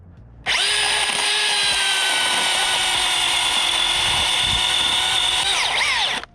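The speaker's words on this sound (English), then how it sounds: "you can go ahead and run the drill" A drill drives a GRCS rigging winch during a large tree removal, starting abruptly and whining steadily and loudly for about six seconds before cutting off.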